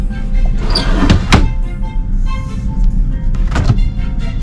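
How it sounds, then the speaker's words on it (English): A pull-out drawer in a cruise ship cabin slides and knocks, giving a few dull thunks and rattles near the start and again toward the end over a steady cabin hum. "a pull-out drawer here."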